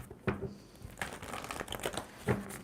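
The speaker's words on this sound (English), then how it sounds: "Give it a good shuffle." Tarot cards being shuffled by hand during a tarot reading, heard as close, dry riffles and crisp snaps in three or four quick bursts with faint rustling between them.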